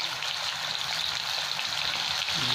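Salt and turmeric frying in hot oil in a pan for a Bengali lentil dish, a steady close crackling sizzle throughout with no talking.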